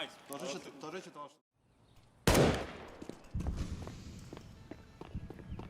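Gunfire in the video game CS:GO cracks out suddenly as one sharp, loud bang after a brief hush, followed by scattered clicks and shuffling footsteps, with commentators talking before it and over the tail.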